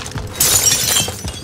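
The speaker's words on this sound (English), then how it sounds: "Break the windows." Glass shattering from windows being broken in Modern Warfare Warzone, a loud bright crash bursting in partway through and ringing on over low game background noise.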